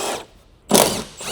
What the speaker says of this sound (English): Continue to remove the strut tower mounting nuts.